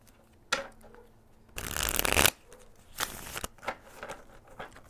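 Tarot cards being shuffled by hand, a loud riffling burst in the middle followed by another shorter shuffle and lighter card handling, close and with no talking.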